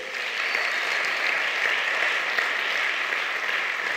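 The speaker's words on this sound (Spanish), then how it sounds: "Dale un aplauso al rey." A church congregation breaks into applause during a sermon, an even, continuous patter of many hands clapping at moderate volume throughout, with no talking.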